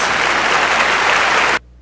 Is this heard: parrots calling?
no